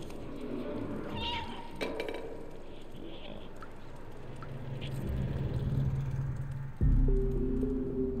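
A cat meows in the video game Stray, set in a factory, heard over a dense bed of game ambience, music-like tones and low rumbling that swells near the end.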